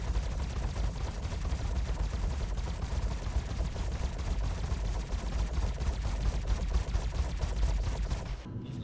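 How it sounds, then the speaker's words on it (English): Size 4 ship guns in the Star Citizen game fire as a continuous, dense stream of rapid booming shots, loud and unbroken for about eight seconds before cutting off abruptly at the end. "And then these are the lower ones, the size 4 guns. And that's how they look when they're firing."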